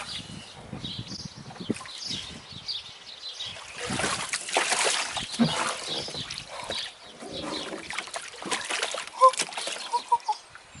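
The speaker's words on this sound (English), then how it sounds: "Wild swimming in a bathtub." Water splashes and sloshes in a bathtub during a playful attempt at wild swimming, with irregular bursts of slapping and dribbling, plus some faint vocal sounds in the background.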